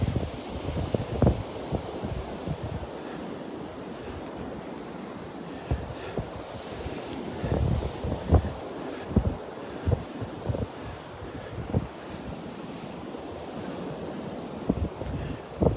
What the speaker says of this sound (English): Bit breezy out today, huh?